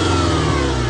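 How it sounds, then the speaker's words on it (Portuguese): A car engine with a faulty TPS throttle sensor revs up loudly as the accelerator is pressed in a workshop, a close, continuous mid-pitched engine roar with no talking. "Ó, pra você ver, eu vou acelerar de novo, ó."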